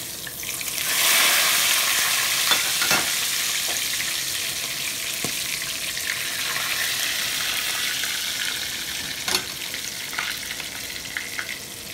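Cajun soft shell crab frying in a pan of hot oil after being flipped, a steady loud sizzle and crackle with occasional sharp pops and spits over several seconds.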